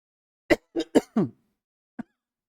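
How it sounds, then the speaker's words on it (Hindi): A teacher coughs several times mid-lesson during a Hindi grammar class, four close, sharp bursts in quick succession, then a single softer one after a pause, loud and near with no talk over them. "बीच में उसको क्या पता सर को खांसी आ रही"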